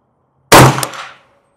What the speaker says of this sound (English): We're gonna be shooting 5 shots.